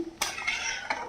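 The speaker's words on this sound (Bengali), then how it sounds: "একটু নেড়ে দিচ্ছি।" A spoon stirs fish curry with potatoes and tomatoes in a pan, making a few close scraping clinks over a soft simmering hiss.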